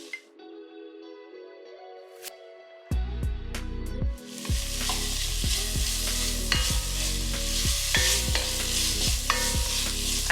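Three minced garlic cloves stirred into a hot frying pan for a chipotle chicken tinga sauce, a steady close sizzle with repeated scraping strokes of the spoon, loud and continuous with no talk.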